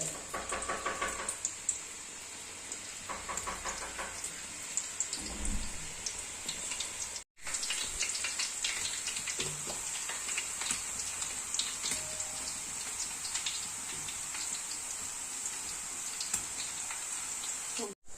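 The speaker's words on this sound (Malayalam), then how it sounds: "എണ്ണ ഒന്ന് ചൂടായിട്ടുണ്ട് ഇനി നമുക്ക് കട്ട് ചെയ്ത് വെച്ചത് ഓരോന്നായിട്ടൊന്ന് ഇട്ട് കൊടുക്കാം" Banana slices for Kerala-style banana chips fry in hot oil with a constant close sizzle, speckled with crackles and a few knocks and stirring sounds.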